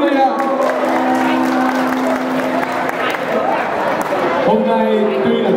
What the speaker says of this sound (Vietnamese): Cho tất cả các em được đưa một tràng pháo tay thật lớn đi quý vị ạ